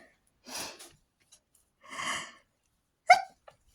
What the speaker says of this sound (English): I'm going to sneeze, folks.